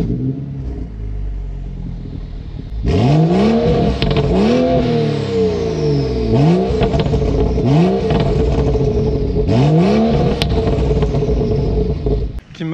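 A BMW 435i coupé fitted with a downpipe and an aftermarket silencer idles, then revs hard again and again. Each blip climbs and falls in a loud, throaty sweep over a steady rumble, with crackles between the revs.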